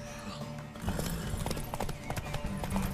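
Horse hooves clip-clop in the video game The Witcher 3: Wild Hunt, a run of close, irregular hoof strikes starting about a second in, with background game sound underneath.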